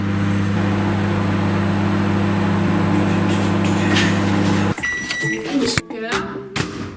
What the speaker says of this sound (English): So, put it in the microwave, now just wait.